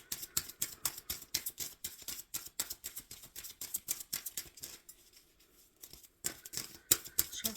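Tarot cards being shuffled, giving quiet rapid rhythmic riffling and flicking bursts with a brief pause partway, then resuming.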